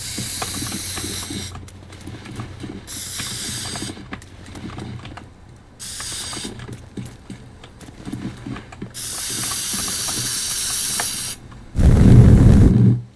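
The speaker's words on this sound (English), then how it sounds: "Well, spray can time." Spray can hissing in the video game Teardown, in several long bursts of a few seconds each with short gaps between, followed by a louder, lower blast near the end.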